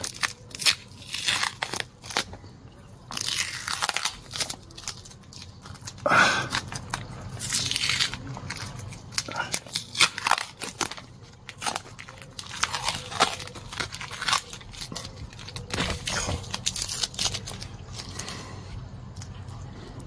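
Wire being unwrapped from an Acer palmatum bonsai, a steady run of close, dry crackles, snips and crinkling scrapes that continues throughout, with no voices.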